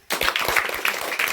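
Classroom applause for a student who answered correctly, a burst of many hands clapping that starts abruptly and continues steadily and fairly loud, with scattered uneven claps.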